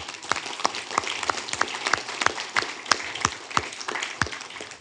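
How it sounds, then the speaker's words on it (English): Audience applause at a Carson, California city council meeting: a steady patter of many hands clapping, with sharp individual claps standing out, sustained at even loudness throughout. "Give them a round of applause"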